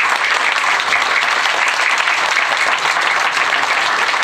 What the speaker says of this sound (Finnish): annetaanpas isot aplodit